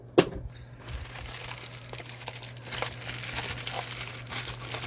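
A Cold Steel Night Force Damascus knife is unwrapped from its inner package, giving close, crinkly rustles of plastic wrapping that start with one sharp crackle and then carry on with scattered crumpling.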